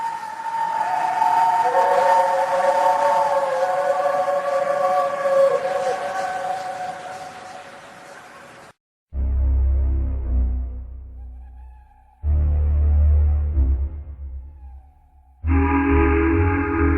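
A ghost train whistle for a radio drama gives a loud, sustained wailing shriek for about nine seconds, then cuts to bursts of low rumbling with tonal whistle notes in three separate blocks.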